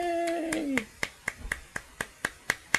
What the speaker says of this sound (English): No, I'm gonna stop clapping now